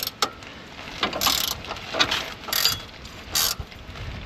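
Ratchet wrenches click in short, uneven bursts while loosening 18 mm shock bolts on a Firebird 10-bolt rear axle, close up, with quiet pauses between the strokes.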